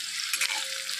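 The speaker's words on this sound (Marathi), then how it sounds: "2 पाळे घेतलेत मी तेल. त्यामध्ये आपण थोडं लसूण, मिरच्या" Garlic and green chilies frying in a little oil, a steady close-up sizzle with a brief burst of stirring partway through.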